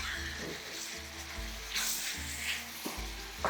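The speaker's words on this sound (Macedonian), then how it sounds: "Сега ќе го ставам месото внатре. И тоа да се пропржи." Meat frying in a pan for Macedonian turli musaka: a steady close sizzle with short louder bursts as it is stirred, no voices.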